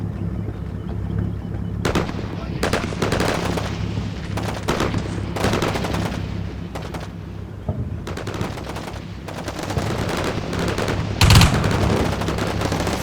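Bursts of machine gun fire and scattered gunshots from a modern combat battle in the war game Combat Mission Shock Force, with repeated loud rattling volleys, brief pauses between them and a steady low rumble underneath, with no one speaking.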